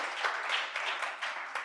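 A crowd applauds at a public urban planning talk, a brief, steady patter of many hands clapping at moderate distance, with no voices over it.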